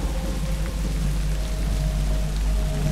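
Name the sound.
heavy rain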